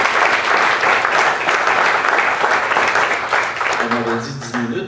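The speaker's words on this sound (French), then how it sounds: "si tout le monde applaudit à toutes les phrases, ça va prendre plus de temps" Loud, dense applause from a Rotary Club of Québec audience during a presidential installation speech, steady for several seconds before thinning out as a voice starts to speak over the tail end.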